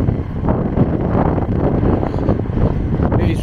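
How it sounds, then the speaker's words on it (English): Strong wind buffeting a microphone outdoors by a police station, a loud, continuous rumbling roar throughout with no voices. "It is really windy here"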